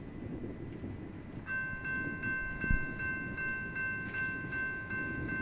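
A Norfolk Southern freight train led by a -9 locomotive rumbles past at Girard, Pennsylvania, its low steady roar joined partway through by a sustained tonal whine and faint repeating clicks.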